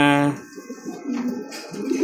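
Homing pigeons coo in low, soft, throaty tones close by, with several overlapping calls over a brief stretch and a higher tonal sound at the very start.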